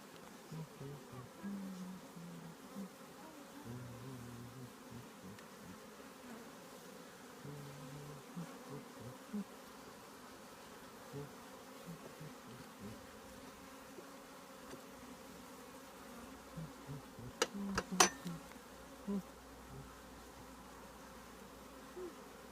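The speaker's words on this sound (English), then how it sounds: "Lots of bees." A constant low buzzing of many honeybees around a hive, steady and close, with a few brief clicks near the end.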